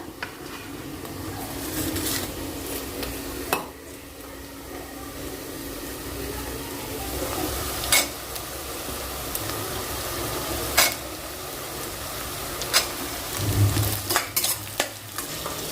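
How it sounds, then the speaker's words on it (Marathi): Cumin, mustard seeds, curry leaves, onion and whole garlic fry in a pan for masala rice, a continuous loud sizzle broken by repeated sharp clinks of stirring. "यामध्ये मी जिरं मोहरी कढीपत्ता कांदा आणि अख्खा लसूण टाकलेला आहे"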